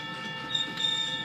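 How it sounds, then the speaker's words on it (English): Loaded Ohio Central trash freight train on the Cincinnati Wilmington & Zanesville line rolling past, a brief steady rumble with a high metallic wheel squeal, fairly close. "This is a loaded trash train."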